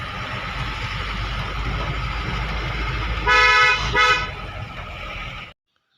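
A car driving on a road hums steadily, then its horn sounds loud and close in two short honks near the end before the audio cuts off.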